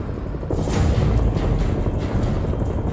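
A military helicopter sets down in a horror video game, a loud continuous low rumble of rotors and engine filling the scene with a steady roar.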